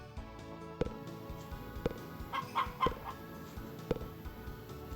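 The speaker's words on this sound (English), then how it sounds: "I believe we have 8 chickens now." Chickens in a hen house in the Harvest Moon video game cluck in short, sharp calls at irregular intervals over a quiet looping background, with a cluster of quick clucks near the middle.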